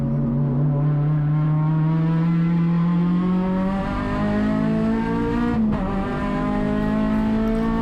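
An Acura RSX race car runs a qualifying lap at Sonoma Raceway, heard from the cabin as a loud continuous engine drone that climbs in pitch, dips briefly at a shift, then pulls again.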